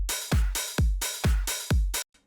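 Programmed drum loop for an electronic remix: four short hi-hat bursts alternating with punchy booming kicks, each hat tail chopped off sharply where the clap lands, with a brief faint hit trailing after a clean stop.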